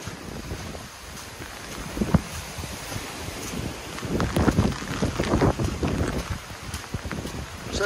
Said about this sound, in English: Some pretty good gusts still coming through.